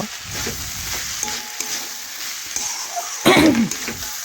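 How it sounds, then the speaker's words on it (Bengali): Chopped vegetables are tipped into a pot of vegetarian cabbage khichuri, raising a steady moderate sizzle and hiss, with a louder splashy surge near the end as the mixture settles, close and without talk. "এই দেখুন এখন এই সবজি খিচুড়ির মধ্যে আমি ঢেলে দেব"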